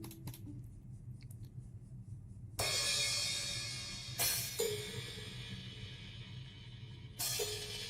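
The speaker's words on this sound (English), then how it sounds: "So next I did percussion from Addictive Drums." Drum-machine percussion from Addictive Drums rings out in bright crashes and splashy hits, with cymbal and ride washes decaying between sharp strikes, played alone without talk.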